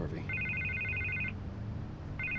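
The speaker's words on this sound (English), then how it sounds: "I can't get the phone to stop ringing." A telephone rings in the Telltale Batman video game, giving a steady electronic double-tone trill that stops, pauses briefly and starts again, heard over a low background hum.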